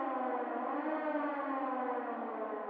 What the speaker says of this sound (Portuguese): quebrou toda a imersão essa sirene aí